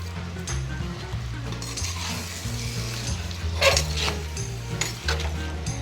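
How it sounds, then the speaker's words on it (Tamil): Chicken pieces sautéing in a pan for chicken gravy with coarse salt, a steady close sizzle broken by repeated scraping stirs and clinks of a spoon against the pot, with no voices. "கறியை நல்லா வதக்கிடணும்"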